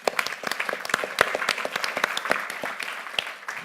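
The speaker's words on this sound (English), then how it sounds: "please give a very warm welcome and a round of applause to Anthony Eskinazi." A lively audience bursts into dense, crisp applause to welcome a speaker at an entrepreneurs' question-time evening, with many overlapping claps close and loud throughout, easing slightly at the end.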